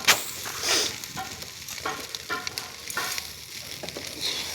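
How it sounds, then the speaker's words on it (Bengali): Panta biryani being stirred and mixed in a pan with salt and chopped coriander, a run of scraping, sizzling strokes with steady rhythm, close and moderately loud, no talking. "ভালো করে নেড়ে চেড়ে নেব।"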